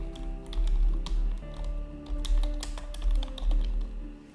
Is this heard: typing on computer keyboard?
yes